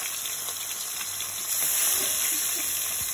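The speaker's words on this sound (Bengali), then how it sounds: "মাছটা সুন্দর করে ভেজে নিচ্ছি।" Fish frying in hot oil in a wok gives a steady, close sizzle with a faint hiss and occasional crackles, swelling slightly louder partway through, with no talking.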